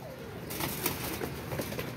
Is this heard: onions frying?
no